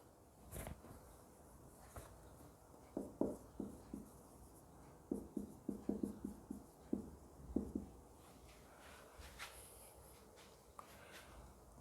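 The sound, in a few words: writing on a board during a lecture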